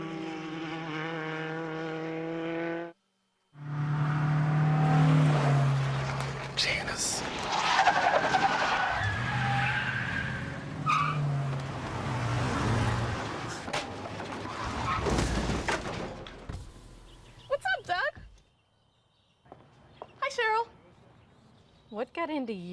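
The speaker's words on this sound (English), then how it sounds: "This battle raging here for the final step of the podium with 8 laps to go in the Formula Continental Championship race at VIR." Formula Continental open-wheel race cars battle at VIR during the 2019 SCCA Runoffs, loud engine roar passing and shifting under a commentator's voice, then trailing off into quieter, scattered sounds.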